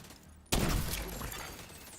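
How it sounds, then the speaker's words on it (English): Gunfire in the video game The Division: a sudden sharp burst of shots starts mid-clip, followed by crackling, echoing fire that fades slightly, fairly loud against the game's low ambience. "I hear gunfire."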